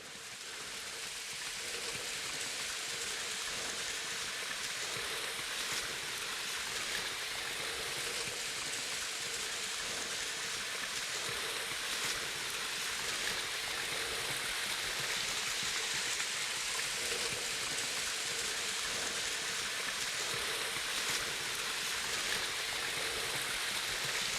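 Constant gentle rush of falling water, a small waterfall trickling steadily nearby on a White Mountain National Forest trail in New England, with no voices.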